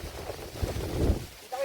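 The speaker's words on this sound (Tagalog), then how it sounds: "malakas yung hangin" Strong wind buffets the microphone at the Kabayunan view deck, a steady low roar with gusts rising and falling, while voices murmur faintly underneath.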